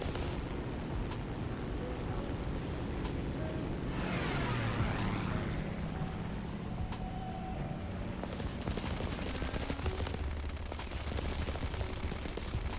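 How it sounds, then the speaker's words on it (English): A plane's machine guns fire in War Thunder, with fast rattling bursts under a constant loud engine drone, and a swooping pass of another aircraft partway through. "I'm firing with stealth ammo, no tracers."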